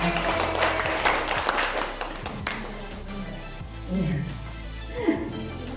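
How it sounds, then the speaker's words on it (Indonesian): A gathering of teachers applauds during a school training session, with scattered, uneven clapping under a roomy hum, along with bumps and taps from nearby, moderately loud and fairly close. "Tepuk tangan buat kita semua"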